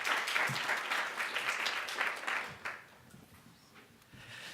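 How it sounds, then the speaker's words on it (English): A crowd applauds steadily for a couple of seconds, then the clapping fades to a few scattered claps and quiet room noise. "please give a round of applause for our judges, for Jamin Rowan and Gideon Burton"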